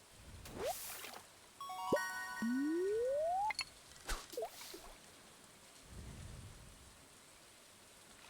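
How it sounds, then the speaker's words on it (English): Rain and a thunder rumble during a storm in the Stardew Valley video game, a soft patter under game tones and chimes, with a brief low rumble near the end. "Get that little bit of lightning right with the sound."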